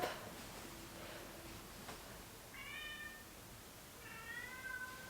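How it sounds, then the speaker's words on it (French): Two drawn-out cat meows, a few seconds apart, fairly close in a quiet room with no talking. "Oh non, elle miaule."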